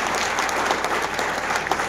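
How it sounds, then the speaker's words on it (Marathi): A crowd at a college cultural event, Antarang 2K24, claps loudly and continuously, many hands merging into a thick, sustained patter with occasional sharper claps and no speech. "आपल्या आई वडिलांसाठी जोरात टाळ्या वाजवून स्वागत करा"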